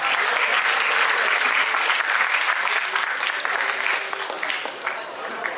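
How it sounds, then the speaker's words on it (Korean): Audience applause at a high school lecture in Korea, welcoming a guest speaker doctor to the stage; sustained dense clapping from a large crowd, steady and loud, tapering slightly toward the end. "다시 한번 뜨거운 박수 부탁드립니다."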